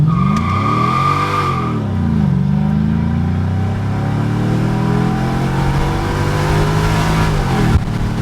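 Mercedes CLK55 accelerating hard from a standstill, engine revving up through the gears with a rising then steady roar, heard loud from inside the car, no talking.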